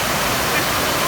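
Waterfall crashing into cold water below, a constant near roar of falling water with a possible faint voice underneath.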